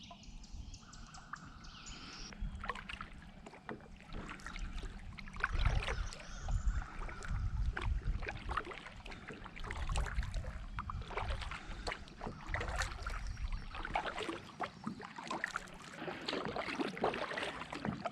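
Kayak paddled on Caddo Lake in Texas, with paddle strokes dipping and splashing in a steady rhythm, water dripping, and birds chirping in the background, close and fairly quiet with no talk.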